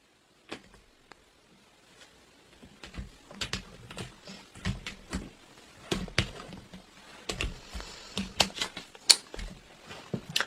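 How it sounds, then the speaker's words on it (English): A tarot deck is cut by hand, giving sparse clicks at first, then a busier series of sharp taps and card slaps at close range with no speech. "I'm going to cut these because these cards are hard to come out"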